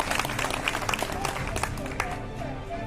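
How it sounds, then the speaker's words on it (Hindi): Audience applause welcoming district officials at an outdoor government ceremony handing out e-rickshaws to beneficiaries, with sharp, uneven claps over a noisy background and voices talking beneath. "तालियों की गड़गड़ाहट से आप सभी अपना और हमारे जिला पदाधिकारी महोदय का भी स्वागत करें।"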